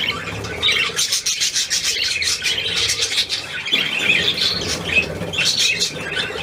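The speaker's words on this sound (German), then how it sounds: "Was sagt die Möwe dir?" Gull squawks, several harsh calls in quick succession, fairly close and loud over a steady background.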